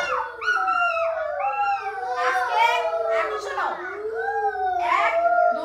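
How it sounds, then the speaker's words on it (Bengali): Several jackal howls rise and fall in long, overlapping wails, close and fairly loud, with a voice speaking briefly among them. "আমরা তো রাতের বেলা শিয়ালের ডাক শুনি"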